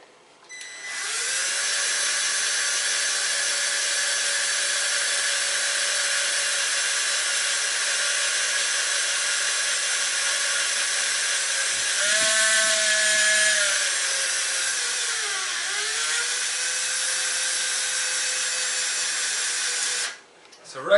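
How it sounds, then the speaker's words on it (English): A handheld drill whines steadily up close while drilling out a pop rivet on a bike rack, its pitch dipping and rising as the bit bites into the rivet head, then stopping abruptly. "I kind of adjust the drill to try and chisel out more of the head on the other side"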